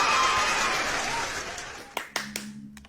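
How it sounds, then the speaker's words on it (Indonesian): A single person claps their hands a few times, sharp separate claps following a burst of crowd-like noise that fades away. "Saya mau tepuk tangan dulu."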